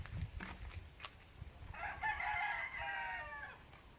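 Chickens in a rural yard: a rooster crows faintly in the distance for a couple of seconds amid scattered clucks and soft background noise, with chicks likely nearby.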